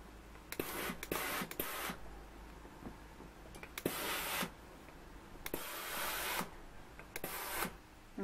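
A steam iron presses a sewn fabric face mask, giving several short bursts of steam hiss separated by quieter rubbing and faint handling noises.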